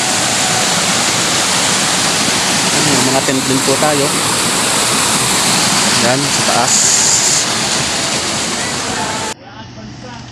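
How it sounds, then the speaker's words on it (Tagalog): A loud, steady roar of Puray Falls in Rodriguez, Rizal fills the scene, rushing water pouring continuously close by while someone speaks briefly over it. "Yan, yung agos ng tubig."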